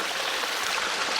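Water flows and trickles in a roughly 4,500-litre koi pond running a pump and filter, a steady, close babbling splash with no voices.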